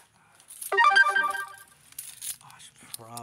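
Mobile phone ringtone indoors in a studio, a short melodic tone sequence ringing at moderate volume with rustling alongside, followed by someone speaking.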